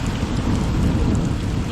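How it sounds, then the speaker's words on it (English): Thunderstorm with a heavy downpour at an off-grid property, steady loud rain roaring throughout with deep low thunder rumbling beneath it, continuous and close. "You hear the thunder?"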